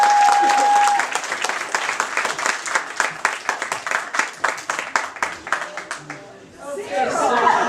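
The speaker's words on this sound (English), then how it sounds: "Nice big round of applause." Theater audience breaks into applause at a melodrama show, starting as a dense roar and thinning into rhythmic individual claps before a voice and crowd noise return.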